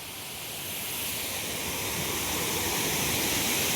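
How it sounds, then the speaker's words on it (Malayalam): A waterfall roars as a continuous, even hiss of rushing water, swelling slightly at first and then holding steady and loud. "അങ്ങനെ നമ്മുടെ വെള്ളച്ചാട്ടത്തിന്റെ അടുത്തെത്തിയിരിക്കുകയാണ്."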